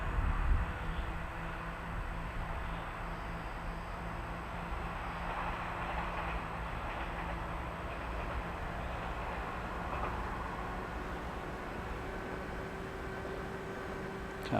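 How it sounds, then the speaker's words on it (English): A passing train followed from above by a small FPV model plane, giving a steady, broadband rumble mixed with wind and motor noise throughout. "Always fun to follow the train."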